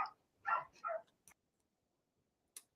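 Dogs give a few short, fairly faint barks in quick succession, followed by a couple of sharp clicks and then quiet.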